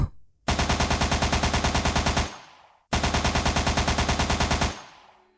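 Rapid machine-gun fire aimed at a monster, loud and close, in two long sustained bursts separated by a brief pause, with no talk.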